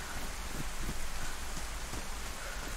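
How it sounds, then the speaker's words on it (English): Rain in a multiplayer survival game during PvP falls as a steady, dense hiss of drops. It stays even throughout and nobody speaks over it. "that's the problem with the rain"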